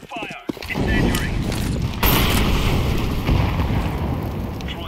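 An incendiary grenade bursting in a Counter-Strike match, a loud whooshing roar of flames that flares and keeps burning steadily for several seconds, close and full, with voices talking over it.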